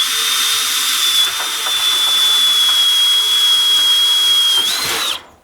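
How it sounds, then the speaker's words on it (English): A power drill whines steadily at high pitch for about five seconds, grinding through a metal lip, then stops abruptly. "and drill it through."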